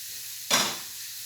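Steak laid onto a hot griddle bursts into a loud sizzle, a sudden hiss that rises sharply and then settles into a steady softer frying crackle.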